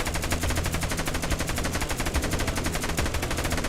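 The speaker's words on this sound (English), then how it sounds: "Let's get up on this turret and let's start shooting them with the turret." Turret machine-gun fire in the Roblox video game Dead Rails rattles continuously in a fast, steady rhythm, loud and close, with no voices over it.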